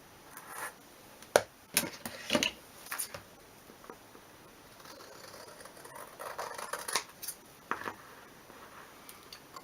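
Scissors snip loose fibers from a leather edge for a faux Dori planner cover, a few sharp, close clicks and cuts scattered among quiet rubbing and handling.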